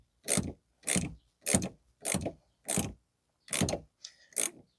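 A ratchet tightening a rear shock bolt on a 2015 Toyota Sienna, heard as seven short, loud, evenly spaced bursts of clicking, close up and alone.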